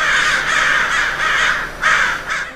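Crows cawing in a series of loud, harsh calls, close and clear, with short gaps between bursts and no other sounds.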